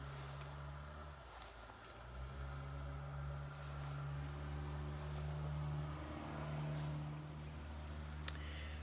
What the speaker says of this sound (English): car going by